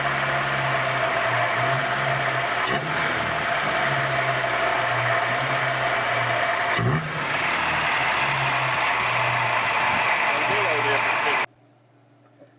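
Small Nissan Hardbody pickup engine running steadily without stumbling, a mid-pitched hum with a couple of throttle blips, then cutting off near the end.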